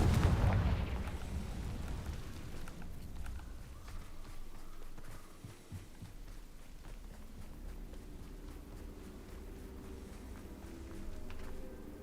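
A Confringo blast spell goes off in the video game Hogwarts Legacy, opening with a loud rumbling boom that fades into a steady low roar and crackle with no speech.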